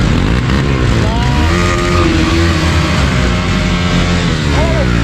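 A motorcycle engine roars loudly and steadily on a snowy offroad track, with rising and falling revving tones and other vehicle engines blending in close by.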